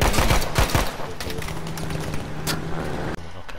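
Rapid bursts of gunfire in the multiplayer battle-royale mode Battlefield V Firestorm, loud and close at first, then scattered shots continuing under a low engine-like hum.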